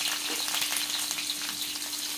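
Onions frying in a pan for brinjal curry give off a loud, steady sizzle with a dense, even crackle that never lets up from start to end.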